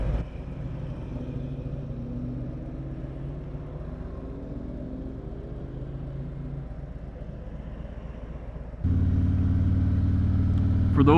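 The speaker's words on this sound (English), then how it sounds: "Nice car." A car driving past, a moderate engine hum with a slight rising whine that holds steady, then cuts to a louder, different engine rumble near the end.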